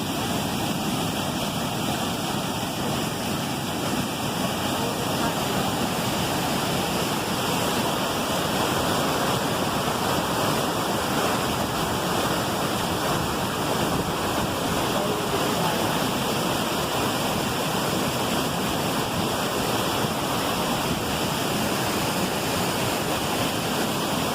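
A powerful waterfall at Presidente Figueiredo in Amazonas roars in a dense, unbroken wall of rushing water, loud and close throughout.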